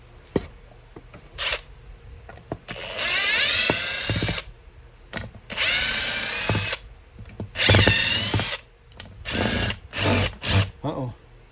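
A power drill backs Phillips screws out of a cigar box guitar in several separate whirring bursts, some long and rising in pitch. Short clicks and quiet pauses fall between the bursts, all heard close up.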